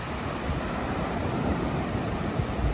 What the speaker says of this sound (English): And the ocean is a little noisy today.